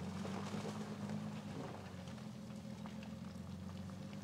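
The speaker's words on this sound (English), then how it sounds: "we're going to go through another little icy mud hole here" A Toyota Sequoia TRD Pro on crawl control easing through an icy mud hole, a low rumbling churn of engine and sloshing water with mushy splashes, steady and close throughout.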